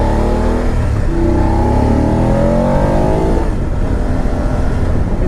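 A BMW F850GSA motorcycle engine revs hard and climbs toward its top end, a loud, continuous close-up drone with rising engine pitch before easing off near the end.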